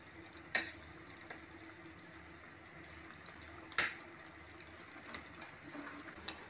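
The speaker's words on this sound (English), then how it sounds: "Let us add kingfish pieces into it and fry the pieces." Kingfish pieces fry in hot gingelly oil in a kadai, giving a steady soft sizzle with occasional sharp pops and crackles, moderately close and without talk.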